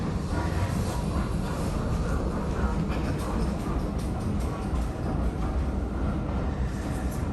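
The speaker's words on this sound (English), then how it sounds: "Sorry, the train's going by" A heritage steam railway train rumbles steadily past close by, a continuous loud roar with faint rattling of wagons throughout.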